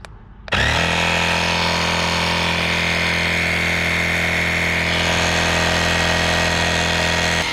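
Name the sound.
LASFIT AIR cordless portable air compressor running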